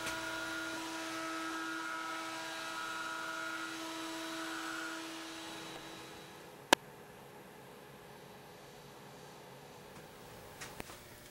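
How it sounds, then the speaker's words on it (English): A router hums steadily while chamfering the edges of a wooden bed leg. The tone is faint and fairly distant, then the motor winds down, followed by a sharp click and a few light taps. "I'll run a very slight chamfer down all 4 edges of the leg"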